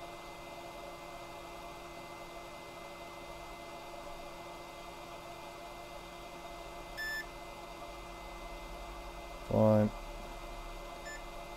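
A multimeter continuity test on a PlayStation 4 circuit board: a short electronic beep sounds once, then a louder, longer tone follows a few seconds later over a steady low hum, with a brief spoken word.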